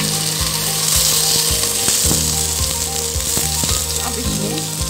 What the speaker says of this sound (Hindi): अब आपने इसमें चिकन डाल दिया